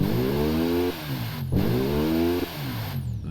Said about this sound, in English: let's listen to our new flat 4 engine